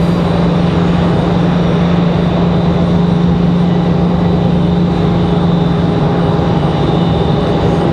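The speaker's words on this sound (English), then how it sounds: "That was Southwest touching down." A Southwest airliner landing at Raleigh-Durham airport, heard from nearby as a loud, steady roar of engine and rushing air holding at the same level throughout, with no voices over it.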